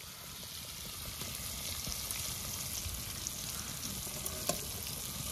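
Spice paste fries in a pan with a soft, continuous sizzle and faint crackle, with occasional light stirring clicks, quiet and steady throughout.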